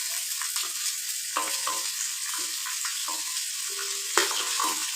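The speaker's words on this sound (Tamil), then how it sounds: "இது நல்லா பொரிஞ்சதும் வெட்டி வச்ச ஆனியன் சேர்த்துக்கலாம்." Chopped onion hits hot oil with fried spices and sizzles steadily, with stirring scrapes and a sharper clatter near the end, close and alone without talk.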